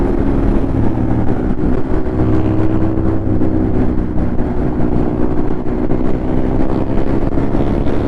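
Ducati Monster 821 motorcycle while riding through corners, a loud, continuous low engine drone mixed with heavy wind buffeting on the microphone, with no voices.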